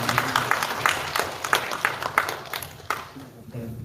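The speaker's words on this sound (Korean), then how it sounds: "우리 환영의 박수" Church congregation at a Sunday service applauding to welcome newcomers, uneven scattered claps in loose bursts that thin out toward the end, fairly close in a room.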